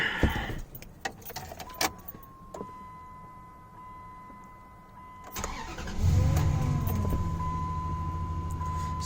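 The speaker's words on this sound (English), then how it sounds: "Go ahead and start it up for you here." After faint handling clatter and a quiet electronic tone, a 2003 Dodge Dakota with freshly replaced spark plugs cranks briefly and catches, then settles into a steady, smooth idle close by, with no talk.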